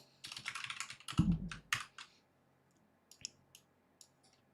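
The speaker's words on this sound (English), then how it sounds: "Let me unplug my keyboard." Rapid computer keyboard typing for about two seconds, with one heavier thump among the clicks, followed by a few sparse, fainter key taps in a quiet room.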